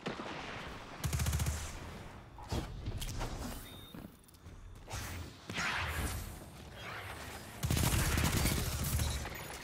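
Recluse SMG from Destiny 2 fires in loud rapid automatic bursts, several separate sprays of fast gunfire broken by short pauses, with footsteps and game noise in the gaps.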